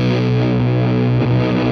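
A thick, saturated fuzz guitar chord through a Wampler Velvet Fuzz pedal in big mode rings out loud and sustained, with a fat, heavy low end.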